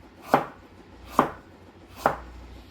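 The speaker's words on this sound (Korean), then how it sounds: "그래서 얇게 먼저 썰어주는 거예요." A Korean kitchen knife slices carrots thinly for gimbap on a cutting board, three crisp, evenly spaced chops close up with quiet gaps between them.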